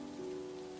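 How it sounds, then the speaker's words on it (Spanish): Gentle rain falls as a soft, even hiss in the background, with a faint steady tone running beneath it. "descansen pacíficamente con la agradable lluvia de fondo"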